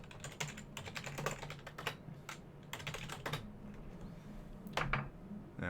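Commands are typed into a terminal on a computer keyboard, rapid close clicking in bursts with short pauses between, over a faint background hum and without speech.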